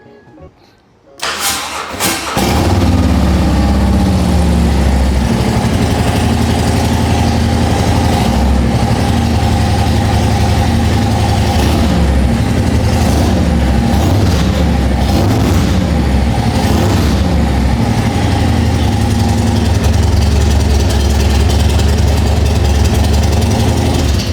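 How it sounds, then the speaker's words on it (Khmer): A 2024 Harley-Davidson Road Glide motorcycle cranks and fires up, then settles into a loud, steady, deep rumbling idle that holds close to the microphone for over twenty seconds, with no talking over it. "យើងធ្វើការបើក sound សិនដើម្បីយើង start ម៉ាស៊ីនហើយយើងនឹង បញ្ចេញឲ្យអ្នកគ្នាស្ដាប់ថាមានសលេងបែបម៉េច"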